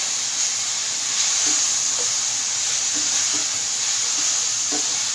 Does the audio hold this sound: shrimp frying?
yes